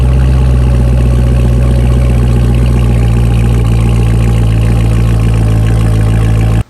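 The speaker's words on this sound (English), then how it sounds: "all you have back there is your quad tip dual mode exhaust from factory" A C6 Corvette Z06 with factory quad-tip dual-mode exhaust idles close by, a loud, deep, steady engine rumble with a throaty exhaust note, continuous, cutting off abruptly at the end.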